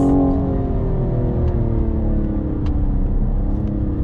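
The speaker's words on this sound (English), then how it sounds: "So I'm definitely enjoying the upshifts. The upshifts are very, very quick." A 2021 Cadillac CT5-V sport sedan accelerates hard, its engine note rising steadily and loudly from inside the cabin with quick upshifts; a few faint clicks sit over the strong drone.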